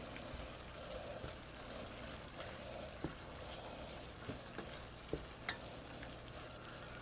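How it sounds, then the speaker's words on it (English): Meat and vegetables sizzle in a pot for spaghetti meat sauce while being stirred, a steady soft frying hiss broken by a few sharp scrapes and clacks of the spoon near the end. "We're gonna get everything into the pot. All right, give that a stir."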